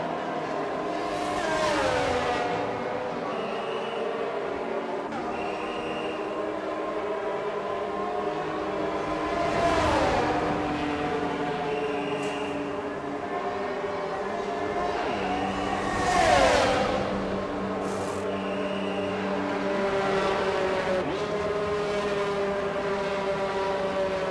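A Formula 1 race car at Silverstone, an Apex F1 car, driving out of the pit lane, heard as a series of loud engine passes that swell and fade every few seconds, with a steady mechanical drone between them.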